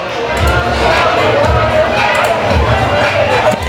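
A youth football crowd at an 11U game between the Carson Colts and LA Rams celebrates a 19-6 win, with continuous cheering, shouting and chatter close by, mixed with a faint announcer's voice.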